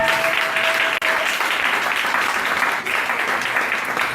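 A church congregation at a temple service applauds loudly and continuously in acclaim of Jesus, a dense wash of clapping filling the hall.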